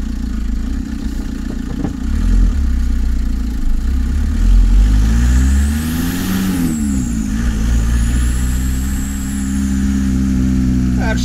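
A VW TDI diesel car with low power and high fuel consumption accelerating along a drive, a steady low engine drone rising and falling in pitch as it pulls through the gears, heard from inside the car.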